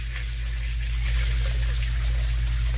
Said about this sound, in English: there's just so much water running here